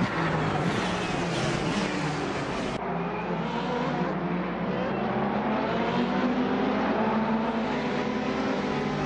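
Ferrari 488 and 458 race cars passing a BMW M3 in the Assetto Corsa racing game, a dense continuous engine roar with overlapping revving cars throughout, loud and close with no pause.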